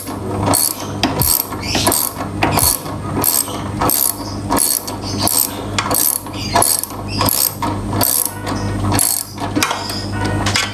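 A socket wrench ratchets in quick repeated bursts of sharp clicking while loosening an exhaust bolt on a Honda CBR 250 RR during a slip-on Summa muffler installation, with short pauses between strokes.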